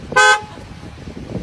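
A car horn gives one loud, sustained honk of about a quarter second, close by, followed by low traffic and street background noise.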